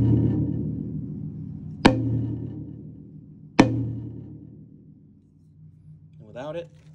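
Two solid strikes on a SmackPac 10-inch tom drum fitted with a silicone bowl lid, each a crisp close hit with a deep tone fading out over a second or more. A short voice sound follows near the end.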